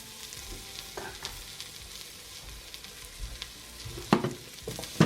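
Garlic and tomato paste cook in a pan, a soft low sizzle broken by occasional stirring scrapes and a few sharper utensil clinks toward the end, quiet and close with no speech.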